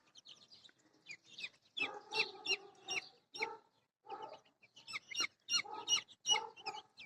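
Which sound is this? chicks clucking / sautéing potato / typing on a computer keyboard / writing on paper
chicks clucking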